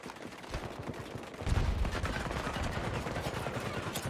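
Sustained automatic gunfire in the video game Battlefield 2042, with dense rapid bursts and heavy low impacts building after the first second, loud and continuous throughout.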